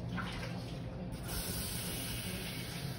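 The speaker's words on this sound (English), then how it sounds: "Let me wash my hands real fast." Tap water runs steadily as hands are rinsed under it for a quick wash during barbecue cooking, a continuous close hiss and splash. A voice briefly mixes in beneath the flow.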